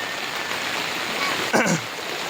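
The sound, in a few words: flooded river water flowing near a small bridge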